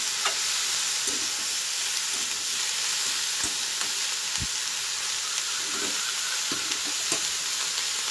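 Cabbage is stirred in a frying pan over a constant loud sizzle, with spatula scrapes and knocks sounding at irregular intervals up close.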